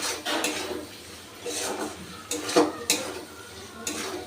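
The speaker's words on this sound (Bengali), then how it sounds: "আবারও মশলার সাথে আমি ভালো করে কষিয়ে নেব" A spice masala with ground cumin is stirred and fried in a pot while chicken is being cooked, giving a low sizzle with intermittent louder scrapes and clinks of a spoon against the pot.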